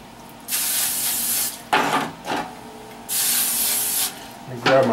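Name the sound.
spraying baking pans with cooking spray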